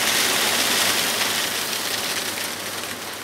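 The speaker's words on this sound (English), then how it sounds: "I'm starting to see the first few spits of rain" Steady broadband hiss of rain falling on a sailing yacht on Belfast Lough, a dense continuous wash that stays loud throughout and eases only slightly toward the end.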